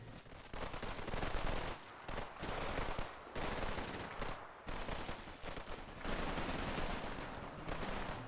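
PPSh submachine guns hammer away in a World War II Stalingrad battle video game, dense overlapping automatic fire with brief gaps, fairly distant and continuous across the scene.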